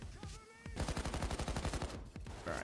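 Rapid automatic gunfire rattles in the video game Payday 2, a dense burst of shots, with a few single cracks before it.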